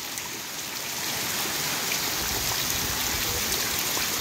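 Heavy rain driven by wind pours onto a backyard in Uruguaiana, Quixadá, as a dense, steady hiss of drops that thickens and grows louder after the first second. There are no voices.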